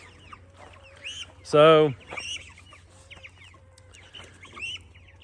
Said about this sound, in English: these are my meat chickens right here.